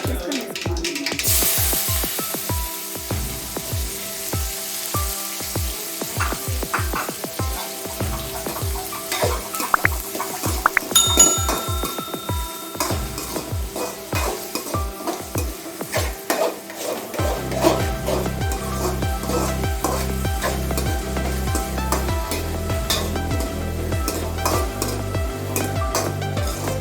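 Chopped onion and green chilli fry in a pan for egg fried rice, a steady close sizzle with repeated scraping stirs and utensil clinks against the pan throughout, with no talking.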